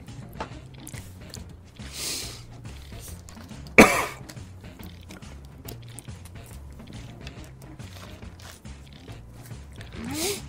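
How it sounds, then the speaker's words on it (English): A person coughs while playing Quiplash with friends: one sharp, close cough stands out mid-clip, with a softer one near the end, over quiet room noise and faint background sounds. "I'm gonna have a bit amount of editing to do because of all my coughing."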